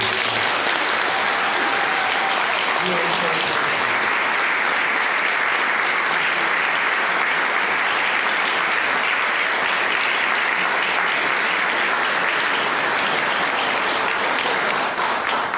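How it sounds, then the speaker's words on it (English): Sustained, dense applause from a mayors' forum audience, loud and even throughout without a break. "Let's have a round of applause"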